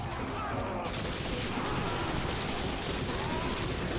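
Turrets fire in Remnant: From The Ash, a dense, continuous rattle of rapid shots that stays steady and fairly quiet throughout, like a crackling barrage.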